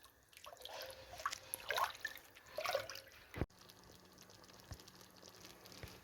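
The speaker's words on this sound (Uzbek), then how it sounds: "Mana atiralarimiz chiroyli bo'lib qaynayapti, xudo xolasa." Atala porridge simmering gently in a pot on low heat, giving soft irregular bubbling and dripping sounds, faint and close, with a sharp clack partway through and quieter bubbling after.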